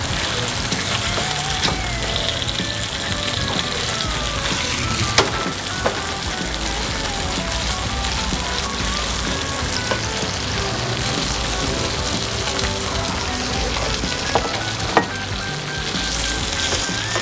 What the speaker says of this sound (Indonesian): Ditumis sampai agak kecoklatan.